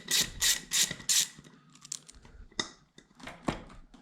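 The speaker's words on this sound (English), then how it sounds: "these two 10 mils loosen up the clamp on the carb" A ratchet loosens the 10 mm carburetor clamp bolts on a 2000 Yamaha XVS DragStar 125 motorcycle, starting with four quick, loud bursts of clicking, then slower scattered clicks and handling noises close up.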